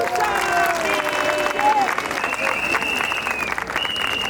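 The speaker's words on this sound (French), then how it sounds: "Est-ce qu'on peut applaudir?" A large crowd at a closing presidential campaign rally applauds loudly, with dense clapping mixed with cheering, whistles and shouting voices throughout.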